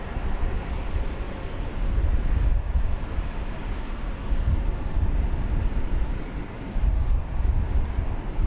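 A large Airbus A350-1000 airliner turns onto the runway at DFW airport at night, a steady low engine rumble and broadband roar with some wind buffeting on the microphone, sustained and fairly loud.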